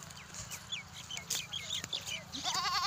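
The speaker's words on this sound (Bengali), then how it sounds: "পিসির ছাগল" A goat brought home from the field bleats with a short wavering cry near the end. Chickens cluck throughout and people talk softly in the background.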